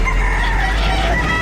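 A rooster crows loudly and close at a chicken market in Lipa, Batangas, one sustained strained call filling the whole moment over a steady background rumble.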